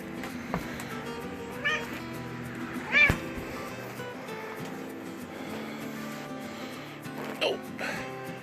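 A house cat meows a few times indoors, short faint calls with one sharper cry, over a steady background hum.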